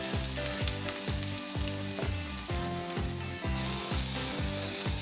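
Garlic frying in hot oil for Filipino chicken adobo. A loud, close sizzle runs continuously, and a repeating pulsing tone sits beneath it.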